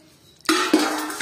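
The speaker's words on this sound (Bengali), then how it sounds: "আমাদের পান্তা ভাত বাড়া হচ্ছে।" Soaked rice (panta bhat) being served onto a plate: a quiet start, then a sudden scraping, clattering burst with a second knock a moment later, close and fairly loud.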